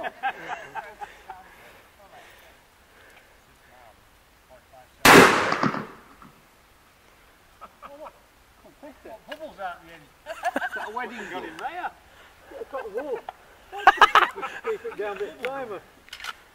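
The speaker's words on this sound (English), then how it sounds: "It's a wedding gun, that." A single loud blank charge from a wedding gun fires at an outdoor fun shoot, a sharp close bang with a short ringing tail, surrounded by casual conversation and a later burst of laughter-like voices.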